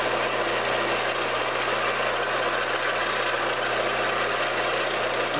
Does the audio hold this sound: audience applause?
no